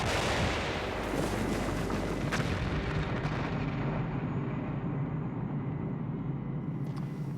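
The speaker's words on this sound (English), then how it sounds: "The Bangalore torpedo has blown a channel right through our barbed wire entanglement" A Bangalore torpedo explodes through a barbed wire entanglement in a D-Day military demonstration, giving a loud, sustained blast and a rolling rumble that slowly fades over several seconds.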